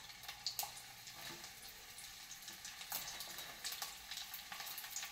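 A soft, steady sizzle of garlic frying in a pan, with faint crackles and pops scattered throughout, fairly quiet and close.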